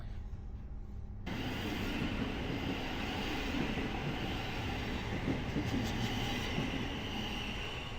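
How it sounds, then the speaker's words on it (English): A train departing for Brighton rumbles steadily close by, wheels clattering on the rails in a continuous loud roar that starts suddenly and carries on throughout. "So there goes the train on its way to Brighton"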